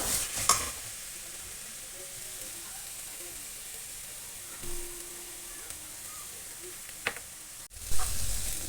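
Mixed masala powder frying in oil with browned onions for a Kerala-style chicken curry, a steady close sizzle with occasional spoon scrapes and a sharper clack near the end, no talking.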